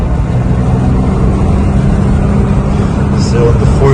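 A BMW E9 3.0 CSi engine holds a steady drone at about 2,500 RPM while cruising near 70 km/h on a hilly German road, with constant low rumble and road noise throughout and a voice talking over it.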